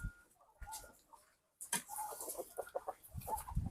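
Large hens and a rooster cluck in short bursts at close range, with a brief quiet pause before busier, overlapping clucks and calls resume.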